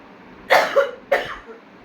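Two sharp coughs, close and fairly loud, spaced about half a second apart in a quiet room.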